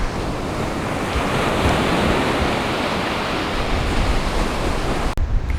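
Steady, roaring surf of ocean waves washing onto a beach, with a constant wash of wind noise and no voices.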